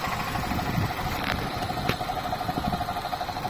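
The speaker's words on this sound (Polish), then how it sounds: "ciszej chodzi ten silnik" An Opel Astra J with the A14NET engine idles steadily nearby, giving a low, even hum with faint rhythmic pulsing and a few small clicks, and no one speaking.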